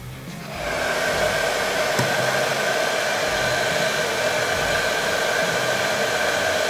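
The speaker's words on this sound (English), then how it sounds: "using a little of the air dryer" An air dryer blows onto a freshly painted Zvezda Art of Tactic Soviet machine gun model kit, starting after a brief moment and then holding a loud, constant whooshing hum with no talking.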